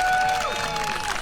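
Brief burst of crowd applause at an outdoor No Kings rally in Hercules, California, steady broadband clapping from a gathered audience with a few faint tonal whistles over it.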